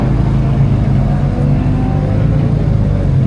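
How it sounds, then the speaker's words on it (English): BMW cars roll up at a street car meet, giving a loud, close, steady low engine rumble that lasts the whole stretch, with no clear revving peaks. "Here we have some BMWs pulling up."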